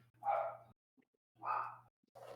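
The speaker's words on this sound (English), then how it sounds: "apologize now for my dogs. They're very noisy." Dogs bark indoors, two or three separate deep barks with pauses between, moderately loud and close over a faint low hum.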